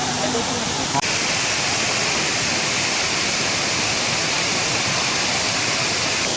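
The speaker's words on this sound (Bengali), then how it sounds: "পাহাড়ের উপর থেকে জল বেয়ে পড়ছে" Meghma waterfall at Daringbadi pours down from a hill in a loud, unbroken rush of falling water, heard close and steady throughout.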